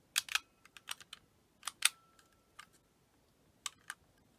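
Buttons on a DX Mega Ulorder toy from Kamen Rider Ghost give a few light plastic clicks, single and paired, quiet and close, with silence in between.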